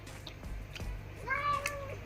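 A pet cat begging for food lets out a rising, drawn-out meow close by, preceded by a few soft clicks and rustles in a quiet room.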